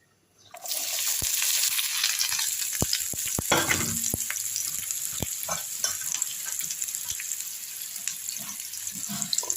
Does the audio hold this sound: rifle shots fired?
no